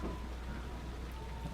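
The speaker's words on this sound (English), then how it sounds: "love the rain" Steady rain in the Fallow Mire swamp of Dragon Age Inquisition forms a dense, constant hiss over a low rumbling bed, with no breaks and no voices.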